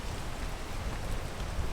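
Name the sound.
rain in a video game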